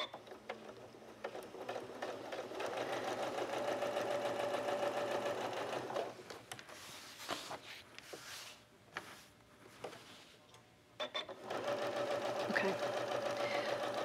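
Sewing machine stitching a quilted fish face, a steady fast rhythmic whirring that stops briefly mid-way then resumes, with a person talking over it.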